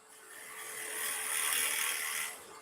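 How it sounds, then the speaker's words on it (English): A steady, rising and falling whir of a 40-40 gouge shaving wood spinning on a lathe at about 2,000 rpm, with a bright scraping hiss that swells in the middle then eases off. "I got a 40-40 gouge, so we'll use that."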